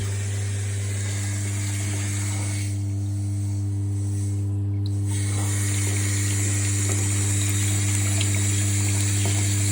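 Water runs steadily into a toilet cistern during a plumbing job, a continuous rushing flow over a strong low mains-like hum, fairly close and unbroken for the whole stretch.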